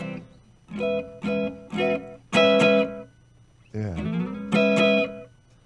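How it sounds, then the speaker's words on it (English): Rockabilly guitar chords ring out with a quick slap echo effect, a series of short, punchy strums with a sliding bend, spaced apart and fairly close, with no talk over them. "We always have to have this slap echo."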